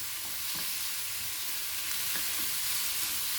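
Marinated prawns sautéing with spices in a pan, heard as a steady, quiet hiss with a few faint stirring scrapes and no talk.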